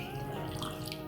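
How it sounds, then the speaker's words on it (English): Rose water toner being poured from one container into a smaller spray bottle, a steady soft liquid trickle with faint dripping, continuous and close for about a second. "this I'm now going to transfer into a smaller bottle which has got a spray so that it's easy for me to use"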